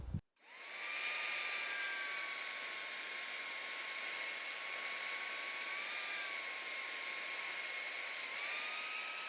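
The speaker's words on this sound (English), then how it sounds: "He's gonna drill the mount holes so it fits under there" A drill boring mount holes in a plate runs continuously at a high, steady whine for several seconds, its pitch wavering slightly as it bites into the material.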